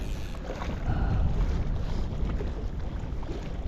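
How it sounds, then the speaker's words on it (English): Strong gale-force wind sweeps across a mountain lake in golden trout backcountry, a loud, steady roar buffeting the microphone with gusts that swell and ease but never stop. "the wind has suddenly just picked up to like gale force"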